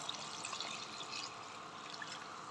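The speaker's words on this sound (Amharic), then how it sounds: "ውሃውን እየሰለስን ነው።" Water poured into a pot of simmering Ethiopian chicken stew (doro wot), a steady, fairly quiet pouring and trickling wash that runs continuously throughout with no talking.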